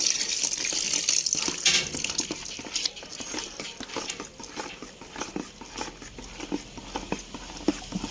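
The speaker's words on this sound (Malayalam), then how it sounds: "സാൾട്ട് ലായനിയും കൂടി ഇതിലേക്ക് ഒഴിക്കുന്നു." Salt solution is poured into a homemade handwash mixture, a close, steady trickle and splash of liquid with small sputters, with no voices.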